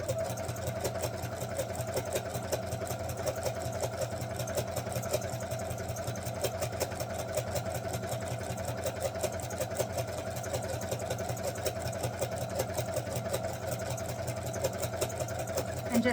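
Sewing machine stitching a jelly roll fabric strip for patchwork, a steady fast rhythmic needle hum running continuously and evenly throughout, moderately quiet and close.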